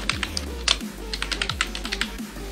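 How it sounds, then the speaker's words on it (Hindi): Someone types a password on a computer keyboard, a quick run of light, close key clicks in an uneven rhythm over a low background hum. "यहाँ पर हमें एक अच्छा सा पासवर्ड इसमें डाल देना"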